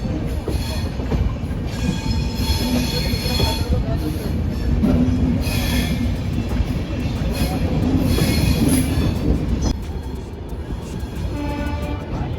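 The Jan Shatabdi Express rolls into Kota Junction station with a steady rumble of wagons, squealing wheels and rhythmic clatter over rail joints, loud and close from on board.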